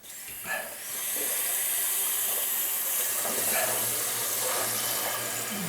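Water rushes steadily with a constant hissing flow as a toilet tank refills, continuing without pause after a brief faint sound at the start.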